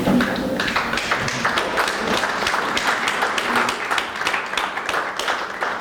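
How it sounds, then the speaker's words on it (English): Audience applause at a university-hosted African women theologians conference, welcoming standing travelers: a steady, dense wash of many hands clapping from a moderately close crowd, sustained throughout with a few faint voices mixed in. "we give you a round of applause"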